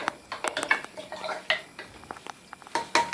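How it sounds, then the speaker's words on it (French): Spoon clinking and scraping against a pot while kombucha ingredients are stirred, a run of irregular metallic knocks and swishes, close and fairly loud, with no voice over it. "Alors ici, je vais remuer maintenant, pour bien avoir tous mes ingrédients remuants."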